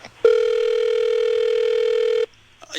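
Telephone ringback tone heard while placing a call, a single steady sustained tone lasting about two seconds, loud and clear, with faint background noise before and after.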